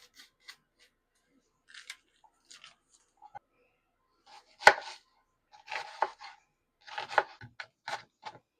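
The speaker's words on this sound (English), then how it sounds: "Now it's time to cut the onion because it's an easy meal." A knife finely chops an onion on a cutting board in a kitchen, making sparse, quiet close-up taps and crunches in irregular short bursts, with one sharper knock partway through.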